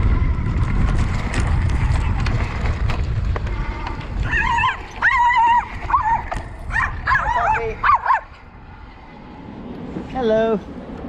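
A dog barks and yips in several quick bursts, with some whimpering, beside a VoltBike Outback electric bike on an outdoor ride; rumbling ride noise and a voice come first, then the barks ring out clearly near the end.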